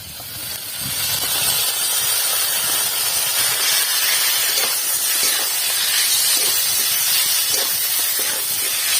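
Ginger, cumin and chili hit hot fried drumstick-stem vegetables in a pan, raising a sudden, strong spray-like sizzle that holds steady and loud, with faint stirring beneath and no voices.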